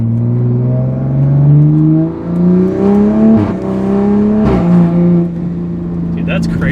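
A wide-body Toyota Supra engine revs up and down at light throttle, close and loud, its tone rising and falling in several swells under speech.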